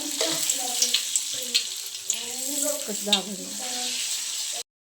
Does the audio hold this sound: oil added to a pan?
yes